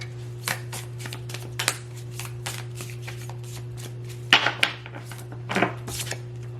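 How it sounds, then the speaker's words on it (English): Oracle cards are shuffled by hand in repeated riffling bursts, close and crisp over a steady low hum, with louder flurries near the end and no talk. "I'm gonna pull some oracle cards."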